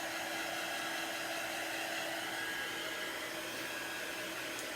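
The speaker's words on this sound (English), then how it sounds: "I'm using a heat tool that I used to use mostly for embossing when I was making cards" A handheld embossing heat tool, normally used for card making, blows hot air with a steady, loud whooshing roar and a faint whine, running close and unbroken throughout.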